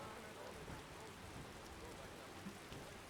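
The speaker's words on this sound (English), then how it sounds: "It's a rainy day. A rainy day indeed." Steady rain falls over a town in Skyrim, a broadband patter that holds evenly and fairly quietly with no other clear sounds.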